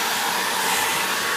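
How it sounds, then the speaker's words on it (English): A hair dryer runs continuously on a warm setting, a steady, close, even airy roar with no voices. "I've got my hairdryer here."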